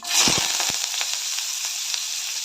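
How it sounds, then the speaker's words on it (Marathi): Chopped onion and curry leaves hit hot oil already crackling with mustard seeds and cumin, giving a loud, steady sizzle with a few sharp pops at the start, alone with no talking. "मोहरी तडतडा झाले त्यानंतर अर्धा चमचा जिरे घालते त्यानंतर बारीक चिरलेला कांदा आणि कढीपत्ता एकत्रच घालते"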